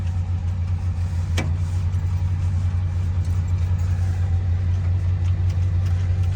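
A Chevy engine inspected at a Baldwin, Iowa auction idles steadily with a low, constant rumble that stays close and even throughout, with no pauses.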